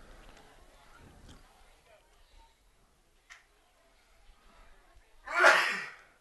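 A single loud, close sneeze from an allergy fit during the broadcast of a junior varsity baseball game, Lewisburg vs Southaven, bursting out near the end after quiet background noise and soft murmurs.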